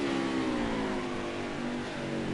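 A NASCAR race car engine in NASCAR Heat 5, a loud droning roar that slowly drops in pitch as the throttle eases off before braking, continuous and close with no talking.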